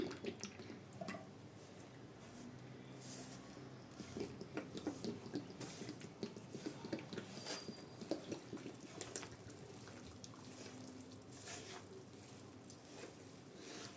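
Sesame oil poured from a container into a batch of avakaya mango pickle, a faint steady trickling and glugging stream that runs on for a long stretch with small splashy drips, no talking.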